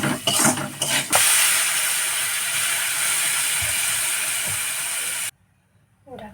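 Water hits a hot pan with turmeric-coated fish and potatoes for a Bengali fish curry, bursting into a loud, steady steaming hiss that holds for about four seconds and then cuts off abruptly into near silence.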